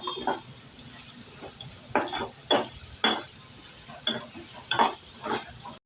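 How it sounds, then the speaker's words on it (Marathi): Onions dropped into hot oil in a pan with green chillies sizzle steadily while a spoon stirs them in about seven distinct scraping strokes, close and clear with no voices. "आता आपण त्यात घालूया कांदे."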